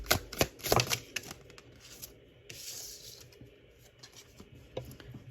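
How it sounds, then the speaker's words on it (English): Tarot cards are pulled and shuffled from a deck, with quick close papery flicks and slaps at the start, then a soft sliding rub and a final flick, each crisp and near. "Let me get more cards out"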